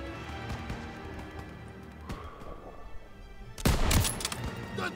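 Gunfire bursts from the World War II shooter Call of Duty WWII, in a rooftop battle near anti-aircraft guns, with scattered low thumps and then a loud, close volley of shots near the end.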